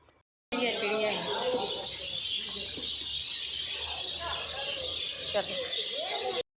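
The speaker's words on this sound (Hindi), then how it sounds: "बहुत दिनों के बाद इतनी सारी चिड़ियाओं को एक साथ चहचहाते हुए सुन करके दिल खुश हो जाता है" Many birds chirp and twitter together in a steady, busy chorus in a garden in Shirdi, India, with a broad hiss of ambience underneath and no talking.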